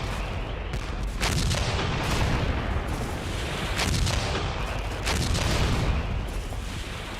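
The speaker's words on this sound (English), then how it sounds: "On January the 12th, 1945, the Russian offensive began with the usual artillery barrage" Sustained artillery barrage from the Russian offensive of January 1945, a dense continuous roar of heavy gunfire and booming blasts with no pauses, loud and rolling throughout.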